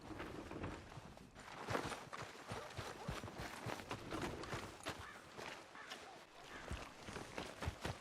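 Horse hooves clip-clop in a quick, uneven rhythm in Red Dead Redemption 2 gameplay, with faint voices underneath, at a low level.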